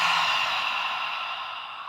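A single long ocean-breath exhale in yoga, a soft whispery rush in the throat that fades gently over about two seconds, close and alone.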